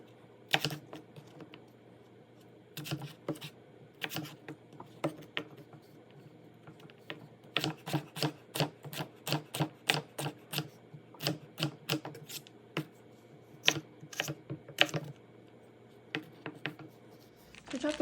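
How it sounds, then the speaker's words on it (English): Celery chopped with a knife on a cutting board, a run of sharp, close taps in bursts, quick and rhythmic in the middle, with pauses between. "I have a little more celery to chop and then I'll show you more"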